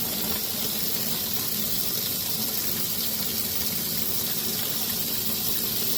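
Tap water runs steadily into a sink, a continuous close broadband rush with no breaks and no talking, heard while model bodies are being stripped.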